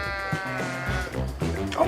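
Sheep in the video game Oddballers bleat in a wavering, nasal chorus, close and loud, while people talk and laugh over them.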